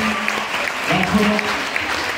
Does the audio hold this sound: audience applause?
yes